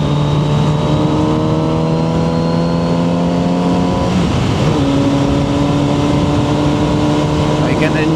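A Kawasaki Z900RS four-cylinder motorcycle engine runs with a loud, steady drone, its pitch shifting midway as if changing gear, heard while riding.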